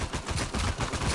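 Rapid video game gunfire, dense overlapping automatic bursts cracking loudly and continuously for about a second, with no talk.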